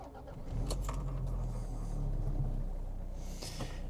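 Engine of a 1994 Toyota Camry AWD with a five-speed manual starting up: a brief crank catches into a steady low idle rumble, close and fairly quiet, with a faint clink near the start and no talking.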